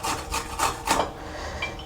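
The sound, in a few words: grating okra with a grater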